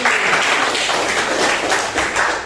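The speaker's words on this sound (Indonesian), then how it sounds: "Berikan aplaus." Students in a classroom applauding, a dense burst of clapping from many hands that runs loud and steady for a couple of seconds with no talking over it.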